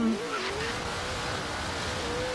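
A supercharged HSV GTS in Forza Horizon 3 holds a steady, loud engine drone in second gear, with a rising whine running continuously over the short stretch and no talking.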